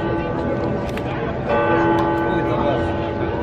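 Church bells ringing at noon in Kraków, a steady continuous peal of layered tones that swells slightly louder partway through, heard amid a busy crowd murmur outdoors.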